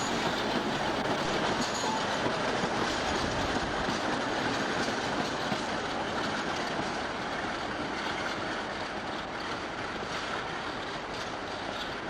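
A British Rail Class 47 diesel locomotive, 47716, hauls its train away from the western end of Edinburgh Waverley station, a steady, loud mix of engine roar and rolling wagons that holds throughout with no voices.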